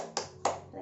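Students in an Indonesian primary classroom clap the rhythmic tepuk PPK chant, heard here as two sharp, distinct claps roughly a third of a second apart, close and crisp against a quiet room.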